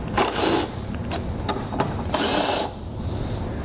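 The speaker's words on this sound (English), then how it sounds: "Take a 10mm socket. Remove the 2 bolts." A 10mm socket wrench ratchets bolts out of a 2017 Chevrolet Equinox tail light, giving a few short clicking, rasping bursts close by, with no talk over them.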